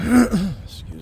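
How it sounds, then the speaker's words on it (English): One person clears their throat up close with a short rough rasp, followed by a breathy exhale. "Let me clear my throat."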